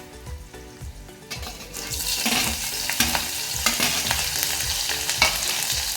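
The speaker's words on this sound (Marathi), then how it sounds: "लसूण लालसर होईपर्यंत भाजून घ्यायचे आणि त्यात नंतर मिरची घालायची।" Garlic and green chilies fry in hot oil for a puffed-rice chivda, a close crackling sizzle that swells after a quieter start, with rhythmic spatula stirring and scraping against the pan throughout.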